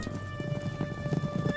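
Cartoon horse hooves clip-clop in a steady trotting rhythm, close and clear, with a faint steady tone running underneath and no voices.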